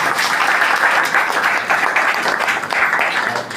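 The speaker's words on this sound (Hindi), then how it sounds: "आप सब अपने लिए एक ताली बजा दें जोर से" A crowd applauds steadily and loudly at a Diwali celebration, a dense wash of many hands clapping without pause throughout.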